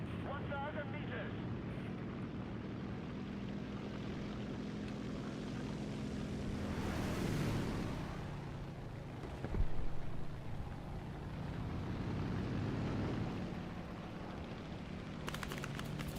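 A propeller aircraft engine drones steadily and loudly in War Thunder, a low sustained roar with wind rush over it, swelling briefly midway; voices talk over the top.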